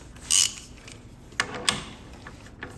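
Ratchet loosening a 13 mm bolt on a BMW S1000RR motorcycle, giving a few short, sharp clicks and creaks close by, separated by quiet pauses.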